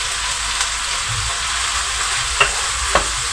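Soy sauce hits a hot pan of spicy chicken pasta and keeps up a steady, loud hiss of frying, with a couple of light clicks from stirring near the end.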